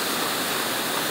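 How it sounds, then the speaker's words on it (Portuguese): Water rushes steadily from a 5 hp pump drawing from a lake to irrigate vegetable gardens, a dense, continuous hiss and gush heard close and alone. "a bomba aqui de puxar água"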